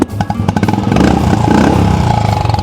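Royal Enfield Bullet single-cylinder engine fitted with an aftermarket silencer, thumping close and loud in rapid rhythmic pulses that build into a sustained rev, with no voices.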